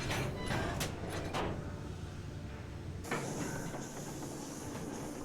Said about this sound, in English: Alright, let's move the train.